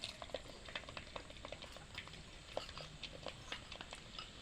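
Peeled garlic cloves fry in hot oil for a tomato pickle made from dried tomatoes. A faint, steady crackle and patter of small pops runs throughout, with no voices.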